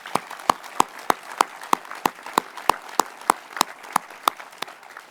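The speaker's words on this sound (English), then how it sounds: "let's just give them another great rounding applause" Sparse clapping from a small crowd at a community centre grand opening, following a pipes and drums band with colour guard: a few distinct, evenly spaced claps in a steady rhythm.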